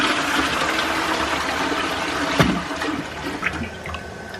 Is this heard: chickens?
no